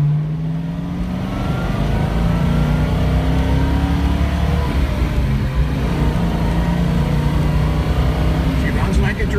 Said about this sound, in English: go for a ride in a 1970 302 Ford Boss Mustang.